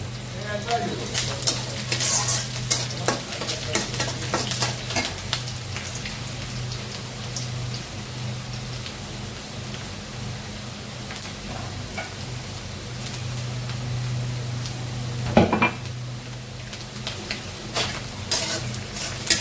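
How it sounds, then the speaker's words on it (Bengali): Bottle gourd greens fry in oil with dried chili, garlic and onion, giving a steady crackling sizzle with scattered stirring scrapes and a low hum beneath; someone talks over it. "লাউ শাক তেলে দিচ্ছি, শুকনা মরিচ রসুন পেঁয়াজ দিয়ে।"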